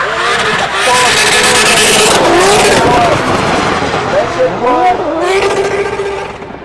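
A drift car in a DLGB RD1-class qualification runs bouncing off the rev limiter through a big-angle corner entry, loud and close, with rapidly sweeping engine pitch and stuttering limiter bursts under an excited commentator's voice.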